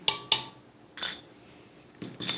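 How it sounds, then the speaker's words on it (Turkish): A spoon scrapes and clinks around a pot while stirring cocoa powder and starch before milk is added, several sharp metallic strokes in uneven bursts, close and fairly quiet with no talk. "Şimdi bunu sütü ocağa koymadan bunları bir güzel karıştırıyoruz arkadaşlar"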